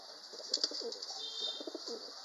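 Pet pigeons cooing softly in a series of low, murmuring calls, fairly faint and close, with steady background hiss and no talking.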